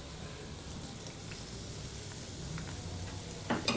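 Ginger garlic paste sizzling in hot oil with light golden fried onions for a masala arvi curry: a constant bright sizzle with faint stirring, and a louder burst of crackle near the end.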